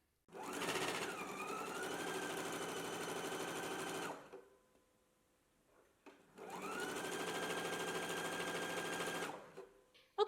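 A sewing machine stitches down the long side of a fabric strap with a 3/8 inch seam allowance, running in two steady bursts of about four seconds each, separated by a short quiet pause, with no talking.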